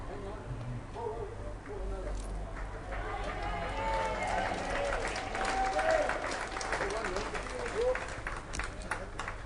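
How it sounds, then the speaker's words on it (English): Spectators at the Atlantic Championships bowls singles final applaud steadily across a packed green, a dense patter of clapping with voices and crowd murmur mixed underneath throughout. "Applause for Jamie Walker"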